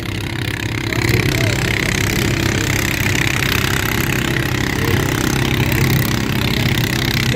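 A modified, engine-swapped Massey Ferguson tractor at a country fair pulling event runs loud and steady, a dense continuous engine roar that holds at one level throughout.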